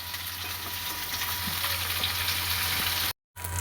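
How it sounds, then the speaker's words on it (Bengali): Rohu fish pieces fry in a pan of mustard oil with a constant, even sizzle that carries a few soft crackles. The sizzle breaks off for a moment near the end and then starts again. No one speaks. "যতক্ষণ না মাছটা কড়া করে লাল করে ভাজা হচ্ছে।"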